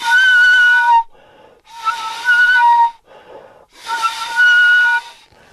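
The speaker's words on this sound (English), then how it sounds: "And we put a balloon over the film can, and if you just put your mouth half on it and blow," Breath blown across a balloon stretched over a film canister gives three strong, steady whistling tones, each about a second long, separated by short breathy gaps, close and loud with no talk.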